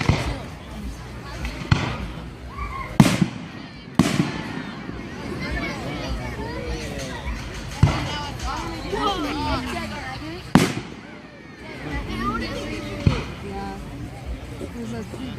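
Fireworks at a July hometown Independence celebration boom in several loud, sharp bangs spread across the clip, with crackling in between and a crowd murmuring and people talking throughout.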